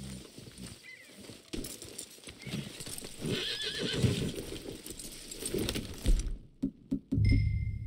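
Horses in the Red Dead Redemption 2 video game clip-clop along with busy hoofbeats and game ambience, then a few sharp hoof knocks and a snort near the end.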